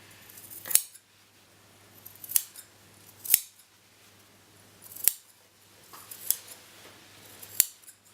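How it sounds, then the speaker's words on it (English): Six sharp scissor snips cutting into a fur vest's fabric seam allowance, spaced a second or so apart, close up against a quiet background. "about every 1/2 inch or so, you just snip in to this seam allowance"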